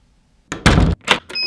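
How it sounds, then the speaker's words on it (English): Doors opening, a series of close thumps and clunks with a short rattle, several distinct knocks spaced over about a second after a quiet start. "Doors opening."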